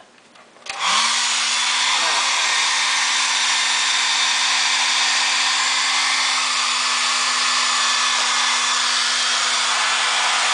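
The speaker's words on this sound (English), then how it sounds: "And this is a hairdryer." A hair dryer switches on with a click and then blows steadily, a loud, close whooshing roar with a constant motor hum underneath.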